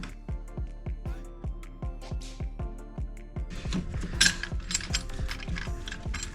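Ratchet wrench tightening the long starter bolt on a 2020 Subaru Forester Sport, a rapid series of close, evenly spaced metallic clicks, then busier clanking and tool handling toward the end.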